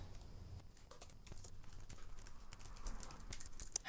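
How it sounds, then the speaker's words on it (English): Keys tapped one after another on a Matias space gray aluminum wireless keyboard for Mac, a quiet irregular run of soft clicks and patters heard close up with no talking. "Checking all the keys."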